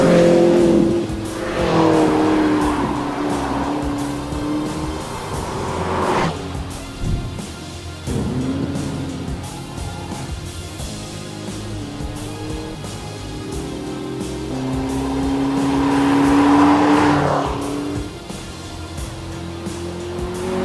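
A McLaren MP4-12C laps a circuit, its engine rising and falling in loud revving sweeps as it accelerates out of corners and shifts gears, sometimes with a faint tire squeal, with no talking.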